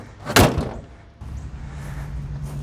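The door of a 1994 GMC Safari conversion van, which sticks a bit, closes with one solid slam-thunk up close, followed by a quieter rumbling shuffle and faint background noise.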